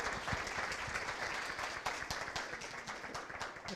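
A roomful of Cherokee County Democrats at a Saturday morning coffee gathering bursts into a full round of applause for their party chair, steady and dense, with a few louder claps standing out near the front.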